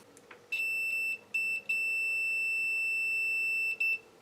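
A multimeter's high continuity-test beep sounds in several bursts: three short beeps, then one long sustained tone, ending with a brief chirp, clear against a quiet background.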